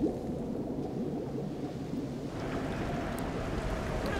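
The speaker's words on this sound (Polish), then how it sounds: "Burza wielka. Sztorm." Storm at sea in the intro of The Sims: Castaway Stories, a steady roaring rush of wind and surging water, dense and continuous with a slight swell partway through, no voices.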